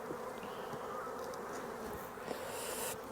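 Honeybees buzz steadily and continuously during a hive inspection, a close, even hum of many insects that holds throughout without a break.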